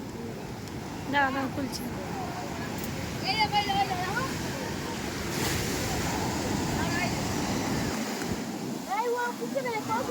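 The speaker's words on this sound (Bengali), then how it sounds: "ঢেউ কত দূর চলে আসছে দেখো পুরো এই পর্যন্ত" Ocean surf on the beach at Puri, a steady wash of waves rolling in under gusty wind noise, with people talking and a voice over it.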